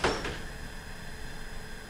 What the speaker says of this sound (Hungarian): Szíveskedjenek vigyázni, az ajtók záródnak!